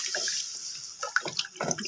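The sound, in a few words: milk being poured into cooking pan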